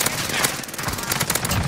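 Rapid bursts of video game gunfire crackle through a short firefight in a squad-based battle royale, sharp shots repeating in quick clusters over a busy, noisy background.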